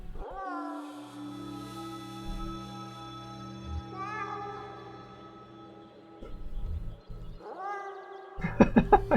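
A cat meows in the video game Kentucky Route Zero: drawn-out, tonal meow calls that rise and fall, clear and prominent over a quiet game soundscape, with a sharper burst at the end.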